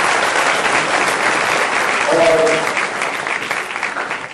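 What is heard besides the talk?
audience applause welcoming honourees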